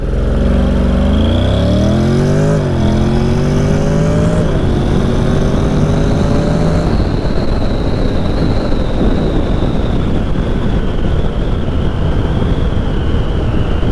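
A 2023 Honda NC750X with a DCT gearbox in sport mode accelerates hard, its engine note climbing through several automatic upshifts before settling into a loud, steady high-speed drone with heavy wind roar, recorded on the bike.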